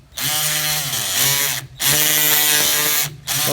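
A surgical bone saw cuts through bone during a TTA osteotomy in a dry lab, a loud, close, high whining buzz running continuously with two brief pauses as the blade stops and restarts.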